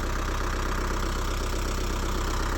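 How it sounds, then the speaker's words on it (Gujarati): A 45 hp Kubota MU4501 tractor engine runs steadily and close by on an 11-bigha farm plot, a continuous even drone with a faint knocking pulse and no break or change in pace. "હવે 45 નો કુબોટા છે MU 4501"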